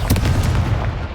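Confringo blasting spell detonating in Hogwarts Legacy, a dense, loud low-end boom with crackling debris rumbling steadily through the whole moment, no voices present.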